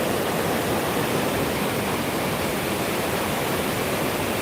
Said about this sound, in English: This is a lot of water.